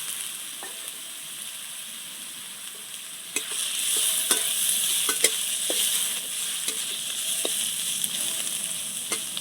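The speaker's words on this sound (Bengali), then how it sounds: "এবার চাল কুমড়ো চাউগুলোকে ভেজে দিতে হবে" Pieces of ash gourd fry in a pan with a steady hiss, joined by light stirring clinks and scrapes that grow busier partway through; no one talks.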